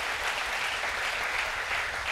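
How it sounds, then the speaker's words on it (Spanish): Church congregation applauding during a sermon, a steady dense wash of many hands clapping at even loudness throughout, with no clear voices above it. "un aplauso al Señor"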